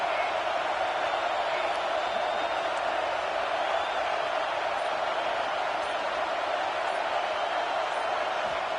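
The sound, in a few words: football stadium crowd getting louder on third down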